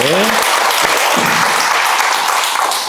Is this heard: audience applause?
yes